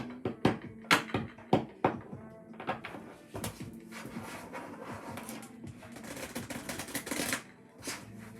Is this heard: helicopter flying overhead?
no